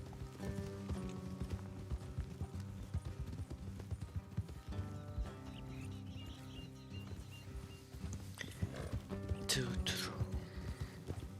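Horse hooves clip-clopping in the video game Red Dead Redemption 2, a steady rhythmic trot of hoof strikes over background music, with a brief neigh or whinny near the end.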